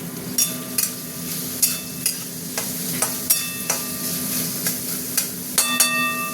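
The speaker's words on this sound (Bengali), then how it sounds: "চিকেনটা একটু তেলে ভাজবো, বুঝেছো?" Boiled chicken frying in hot oil sizzles loudly and continuously up close, while a utensil clinks and scrapes against the pan at a fairly regular rhythm as it is stirred.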